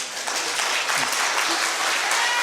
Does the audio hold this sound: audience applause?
yes